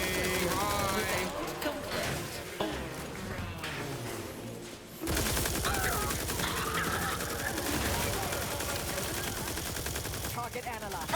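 A player's gun in The Outer Worlds 2 fires continuously, dense rapid automatic gunfire that stays loud nearly throughout, with a voice talking over the shooting.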